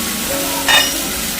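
Chicken coated in masala is stirred in a frying pan, giving a steady close sizzle with a short scraping clink of the spoon midway. No one speaks.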